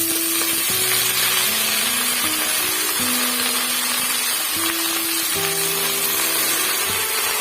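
Chopped bottle gourd leaves frying in a hot pan, with a loud, steady hiss of sizzling oil throughout and a tonal background hum that shifts in pitch, no speech.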